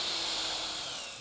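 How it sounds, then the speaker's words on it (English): A power drill boring a 3/8 inch hole centered in the bottom of a wooden table leg, a steady loud whirring grind heard alone and close. "I'm now drilling a 3/8 inch hole that's centered on the bottom to receive the leveling foot"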